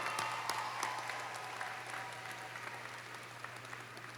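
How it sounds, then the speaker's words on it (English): Sustained applause from a large crowd at a university summer commencement ceremony, a dense, even wash of clapping from many hands filling the whole moment without speech. "join me in applauding all your family, friends, and everyone else who's made you get here today"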